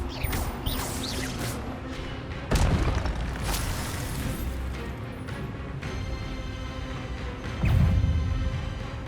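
Spell effects from Hogwarts Legacy, the Expelliarmus disarming spell, burst out as sharp booming impacts with whooshes, two heavy hits standing out amid layered game sound effects and ambience.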